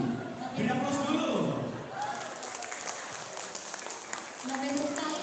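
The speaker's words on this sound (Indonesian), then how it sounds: "Beri aplaus dulu." Audience applause at the grand final of the Bone Regency 2022 student ambassador pageant, a crowd clapping steadily under a host's speech that runs across most of the moment.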